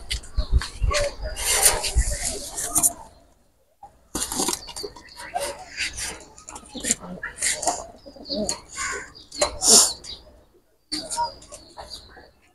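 Beauty Homer pigeons are let go nearby, and sharp bursts of cooing and fluttering come in uneven clusters separated by brief silent gaps.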